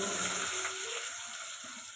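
Sambar onions dropped into hot oil while making masala dosa, giving a steady bright sizzle that is loudest at first and eases slightly over two seconds.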